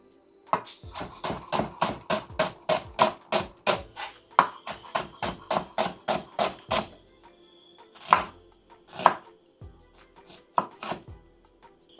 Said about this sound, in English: But I'm going to be cutting these into strips just to see.